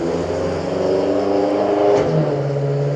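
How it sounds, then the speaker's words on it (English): A vehicle engine running outside a hotel room, a steady low drone with a slight rise in revs, heard continuously through the walls without any talking. "I don't know if the microphone's picking up that engine sound."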